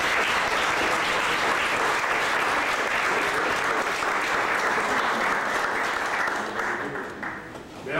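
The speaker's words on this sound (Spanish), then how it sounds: "para ellos un aplauso y un homenaje" An audience at a commemoration of the 1985 earthquake breaks into steady, full applause that holds for several seconds before thinning toward the end, with a few voices faintly mixed in.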